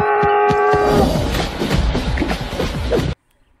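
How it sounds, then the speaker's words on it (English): A cow gives one long, loud, close moo, a low droning bellow that holds for about three seconds, then cuts off abruptly. "Cow."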